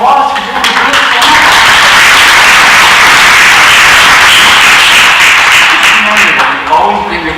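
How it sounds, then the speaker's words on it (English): Audience applause in a church service fills the room, a dense sustained clapping that swells loud for several seconds and then tapers, with faint talk at the edges. "So I think you guys get a round of applause for doing a great job."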